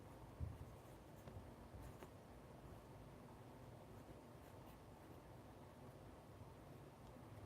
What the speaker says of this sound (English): I'm writing this stuff down.